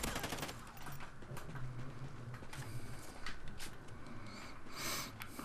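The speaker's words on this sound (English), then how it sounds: "Oh my god! I'm getting shot." Rapid automatic gunfire from the video game Call of Duty: Ghosts on a large map, fast repeated cracks and bursts in a steady dense stream that carries throughout, with a few louder flurries near the end.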